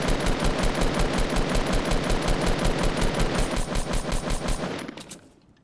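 Rapid automatic gunfire in Fortnite Battle Royale, a long, fast, evenly spaced burst of loud shots that holds steady for about five seconds before thinning out and fading.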